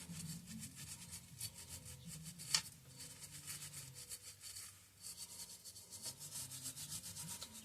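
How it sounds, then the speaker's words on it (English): Quiet, steady scrubbing of Walbro impulse fuel pump parts from a Tecumseh HH120 engine, a soft brushing rasp repeating in short strokes with little pause. "Yeah, that's all got to come out. Just give it a scrubbing."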